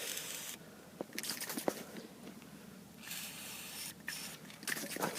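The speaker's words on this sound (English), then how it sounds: "you're just going to spray a little bit on the hinge" Short hissing bursts from a nearly empty WD-40 aerosol can spray twice onto a door hinge of a 1993 Jeep Cherokee XJ, each lasting under a second, with faint clicks and handling noise between them.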